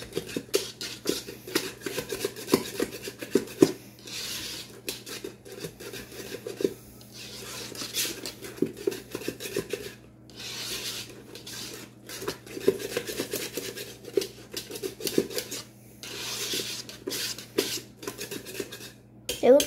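Eggs are whisked in a bowl with quick, uneven scraping and tapping strokes that come in bursts over a steady low hum, with people talking at times.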